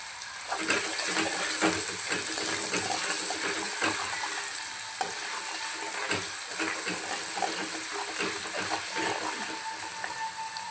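Onion frying with a little salt in a pan for Kolhapuri misal pav, a steady broadband sizzle with scattered clicks and scrapes of stirring throughout, close and continuous with no talking.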